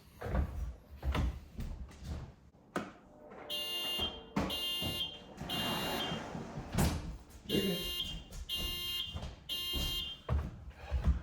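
A smoke detector sounds a series of loud, shrill beeping bursts in a repeating pattern, amid thumps and handling noise nearby.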